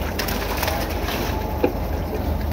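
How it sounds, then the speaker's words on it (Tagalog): Small birds, sparrows just caught, make faint calls over a steady low background, with one brief louder chirp partway through; no one speaks. "Ito, nakahuli kaming maya."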